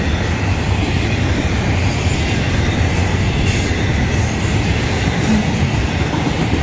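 A Florida East Coast Railway intermodal freight train rumbles past steadily and loudly, with continuous wheel noise and rolling clatter filling the whole stretch.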